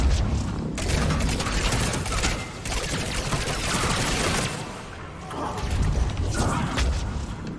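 Charges detonate in a video game battle as a dense run of loud, crashing blasts and rattling gunfire, surging in several waves with brief dips between them, close and harsh.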